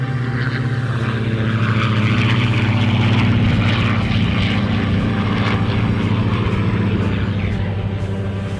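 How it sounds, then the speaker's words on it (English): A Supermarine Spitfire Mark 18 and other warbirds make a formation pass at an airshow in London, Ontario, their piston engines droning loud and steady, with a deep rumbling hum that swells slightly midway. "I think they're going to do now a formation topside pass from the right."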